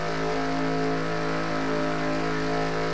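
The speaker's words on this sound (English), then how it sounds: "let's take a first rev. Notice how high it's gonna go." Simulated race car engine in NASCAR Racing 2003 holds a steady, loud high-rpm drone with strong harmonic tones for about three seconds, running alone without voices.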